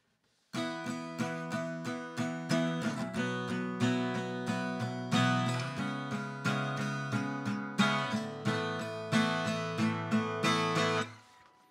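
Electric guitar strumming power chords as a second guitar part in a Czech song lesson, chords ringing and changing every second or so, loud and alone with no talk.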